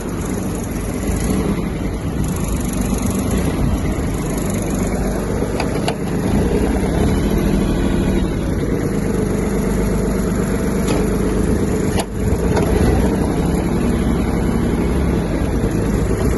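A Kubota GB-20 Japanese mini tractor engine runs steadily, a loud, close, continuous diesel chug with a constant low throb and a few brief clanks, no voices over it.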